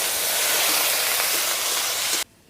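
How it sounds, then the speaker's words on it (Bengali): Water poured into a hot pan of fried ridge gourd peel and spices gives a loud, continuous hiss that cuts off abruptly as the pan is covered. "এবার একটু জল দিয়ে ঢেকে দেবো সেদ্ধ হওয়ার জন্য।"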